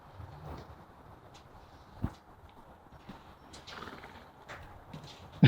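Horses move about on a foggy morning, their hooves making sparse, faint clip-clops and soft thuds, with a sharper knock near the end.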